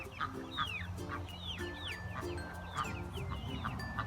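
Chickens and small chicks cluck and peep close by, with repeated short clucks and rising chirps scattered over a steady low background, sounding busy and overlapping.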